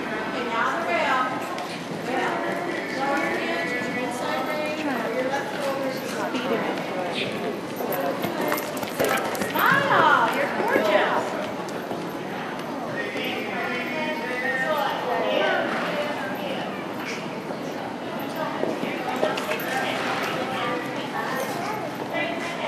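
Horses cantering around a show ring at a horse show, a steady rolling clip-clop of hooves running throughout, mixed with crowd chatter and voices in a busy arena atmosphere.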